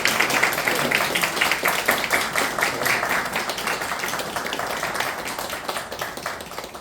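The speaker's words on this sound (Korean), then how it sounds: "축하의 박수 부탁드립니다." A crowd at an end-of-semester closing chapel service at Jeonju National University of Education claps steadily to congratulate a retiring professor, dense, loud applause that holds throughout.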